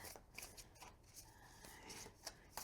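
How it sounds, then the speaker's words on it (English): Tarot cards being shuffled hand to hand, giving soft, quiet riffling and sliding flicks in irregular bursts, close up and faint. "I'll probably do a side riffle. See, hand-to-hand shuffling."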